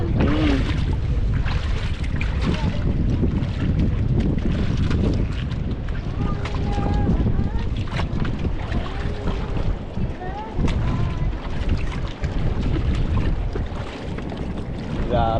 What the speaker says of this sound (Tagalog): Grabing lakas talaga ng hangin na yun.